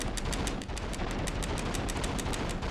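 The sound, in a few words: gunshots from video game Run Like Hell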